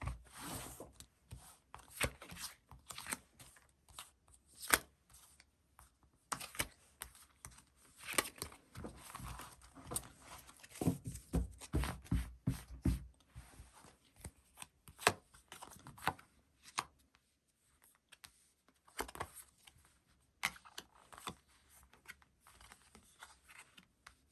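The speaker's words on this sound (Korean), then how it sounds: "제가 카드를 뽑아보도록 할게요" Tarot cards being shuffled and drawn by hand, with a steady run of soft papery slaps, flicks and riffles that thicken in the middle and come close and clear with no voices.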